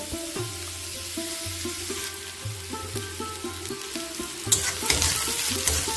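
Onions frying in a pan for mutton keema with drumstick flowers, a steady loud close sizzle with occasional stirring scrapes throughout, backed by soft background music.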